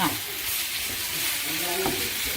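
Mushroom thoran being stirred and mixed in a frying pan, giving a steady soft sizzle with scraping stir strokes, close and continuous, with no talk.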